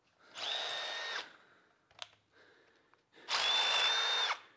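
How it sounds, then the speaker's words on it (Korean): A hammer drill boring into hard concrete, stronger than ordinary concrete, in two loud sustained bursts with a whining tone, separated by brief knocks and quiet handling noise. "콘크리트 타공을 한번 해보도록 하겠습니다"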